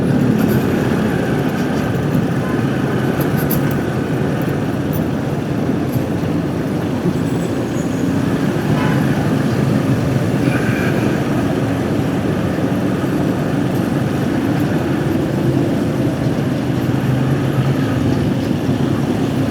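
A motorcycle rides along a road construction site for the Red Line project, its engine droning steadily and loudly with constant wind rush and road noise and no break throughout.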